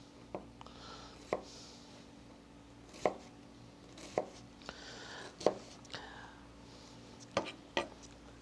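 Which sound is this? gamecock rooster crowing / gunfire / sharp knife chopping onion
sharp knife chopping onion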